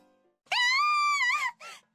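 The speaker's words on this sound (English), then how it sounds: "I heard a scream from inside the manor." A sustained, loud high-pitched scream from the video game Psychedelica of the Ashen Hawk, about a second long, wavering and then breaking off, followed by a shorter cry.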